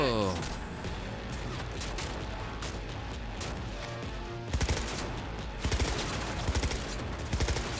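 Rapid automatic gunfire from a weapon in Cyberpunk 2077, dense bursts of shots over a loud game soundtrack, with a player talking over the action.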